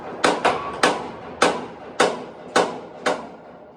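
At a bridge construction site, a hammer drives bolts with seven sharp metallic strikes in an uneven rhythm. Each loud, close blow rings briefly before it fades.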